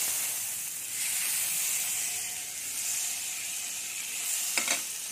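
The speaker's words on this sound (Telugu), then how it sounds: "ఇప్పుడు ఇంకొక ప్యాన్ పెట్టుకుని దాంట్లో బటర్ వేసి" Butter melts and sizzles in a pan for a broccoli and millet salad, a steady soft hiss throughout with a brief brighter crackle near the end, no voices.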